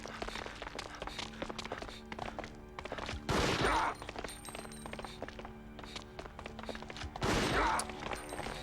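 Gunshots in the PS2 video game Resident Evil Outbreak File #2 sound as two heavy, booming blasts a few seconds apart over a busy, humming game background.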